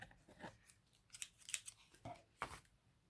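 Scissors snipping a neat edge on a craft piece, several quiet, crisp cuts spaced irregularly with soft handling noise between them.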